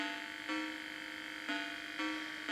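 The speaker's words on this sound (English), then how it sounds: "the annoying buzzing sound plays even when you have the volume all the way down" A Vectrex game console gives off a constant, faint electronic buzz with brief shifts in tone, steady and alone with no talk.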